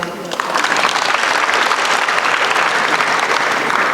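Loud, dense audience clapping at a university student association inauguration ceremony rises quickly after a brief quieter moment and stays sustained to the end.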